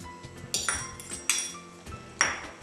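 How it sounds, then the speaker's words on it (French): Vegetables with tomato and onion being mixed and mashed for an Indian vegetarian sandwich filling, heard as several sharp metallic clinks of a utensil against a pot or bowl at an uneven rhythm, close and fairly quiet. "je vais les mélanger en les écrasant un peu"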